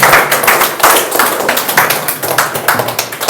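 An audience at an indoor seminar in Mandi, Himachal Pradesh claps loudly and rhythmically to welcome a speaker, a close, dense burst of applause that lasts a few seconds.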